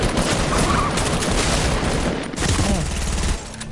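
Rapid gunfire in the video game Fortnite, a dense loud barrage of shots and booms filling the whole stretch with a voice partly mixed in.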